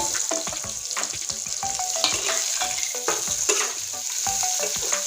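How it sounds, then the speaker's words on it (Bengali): Chopped onion fries in oil with already-browned garlic, a constant crackling sizzle close by, broken by repeated spoon clinks and scrapes against the pan as it is stirred. "এই পেঁয়াজটা এখন দিয়ে দিচ্ছি"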